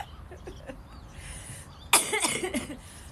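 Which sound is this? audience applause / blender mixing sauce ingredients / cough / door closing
cough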